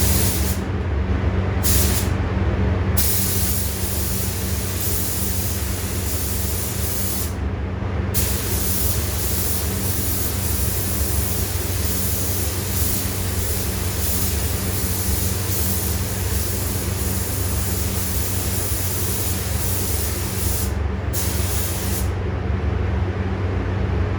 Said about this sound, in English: So now I'm getting ready to spray black on here.